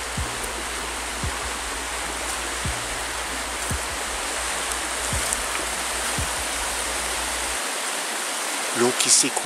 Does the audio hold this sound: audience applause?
no